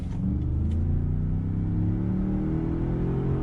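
A 2020 Ford F-150 pickup engine revs up steadily in second gear, its deep rumble rising in pitch as it accelerates to highway speed, heard from inside the cab.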